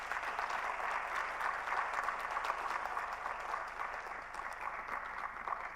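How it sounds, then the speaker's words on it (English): Steady audience applause fills a hall at the close of a university climate innovation session, dense and even throughout with no voices over it. "please, an applause"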